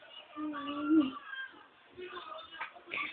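A domestic cat meows near the microphone with a drawn-out cry, followed by softer mews, in a home where puppies are present.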